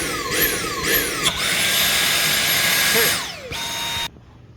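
A Dyson vacuum fitted with a Lanmu powered hose whines loudly, rising through a couple of short surges before holding a steady high-pitched motor tone, then spins down and cuts off abruptly near the end.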